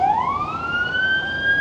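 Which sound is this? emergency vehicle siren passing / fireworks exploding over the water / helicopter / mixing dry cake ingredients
emergency vehicle siren passing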